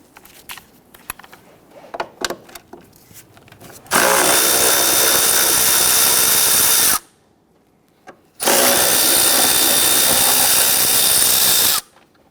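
Power tool loosening and removing 12mm bolts on a 2017-2020 Hyundai Elantra 2.0L during a transmission mount replacement: two loud sustained whirring bursts, about three and three and a half seconds long, separated by a short silence, after faint clinks.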